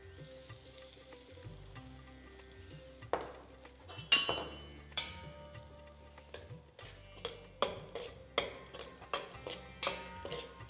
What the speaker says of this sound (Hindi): तो करते हैं आटे को रोस्ट।